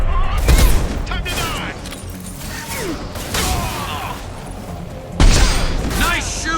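Rapid bursts of gunfire and heavy impacts in the video game Mass Effect 2, with loud volleys at the start and near the end, mixed with shouting voices and mechanical clatter.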